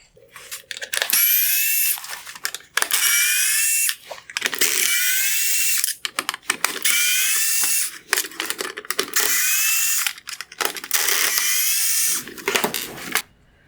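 A power driver spins out T20 screws from a 2019-2021 Jeep Cherokee full LED headlight during disassembly, giving repeated loud whirring bursts of one to two seconds each, split by short pauses and small clicks.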